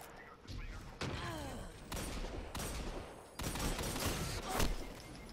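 Rapid gunfire bursts from Destiny 2 in a 3v3 tournament match, dense loud volleys and thuds stacked back to back, with a player talking underneath.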